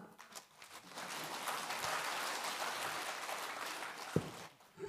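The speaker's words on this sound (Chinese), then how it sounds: "鼓掌。" Audience applause at a lecture, a broad wash of clapping that swells and holds for several seconds, then fades, heard from a distance and fairly quiet.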